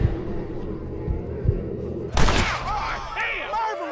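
A single sharp gunshot in a Western-era shootout in the Red Dead Redemption video game, loud and close, cutting through low rumbling background sound and followed by a ringing decay.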